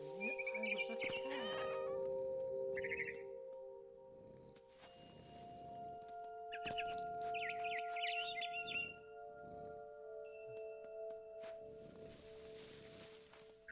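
A cat meows repeatedly in the video game What Remains of Edith Finch. The meows come in several clear, close calls over a steady game soundscape, and a voice talks quietly at points.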